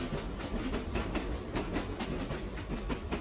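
A passenger train travels from the airport across Ile-de-France into inner Paris, a steady loud rumble with a regular clickety-clack of wheels on rail joints.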